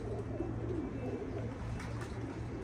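Pigeons cooing steadily in a low repeated murmur, close and continuous throughout, from birds kept in a loft for hunting and breeding.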